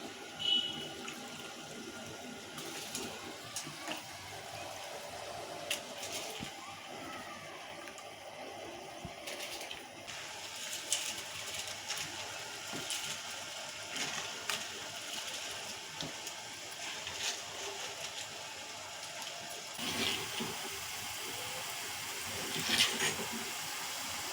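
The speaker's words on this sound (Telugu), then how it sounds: "వాటర్ అయ్యి నేను సిమ్లో పెట్టినమాట అయినా కానీ మసులుతున్నాయి" Water for mutton biryani rice bubbles on a low simmer in a pot, a steady churning, gurgling wash with faint clinks of kitchen utensils, continuous and fairly close.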